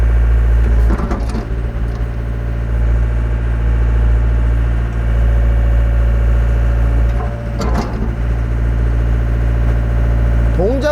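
A 2019 Hyundai HW60 excavator's diesel engine runs revved up to about 1700 RPM, a loud, steady, close drone with a deep rumble, briefly interrupted by a couple of short mechanical rattles.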